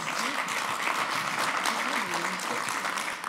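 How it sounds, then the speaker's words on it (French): Audience applause at a corporate event welcoming Essilor's marketing, communication and customer service director, dense steady clapping filling the whole stretch with faint voices underneath. "On peut l'applaudir."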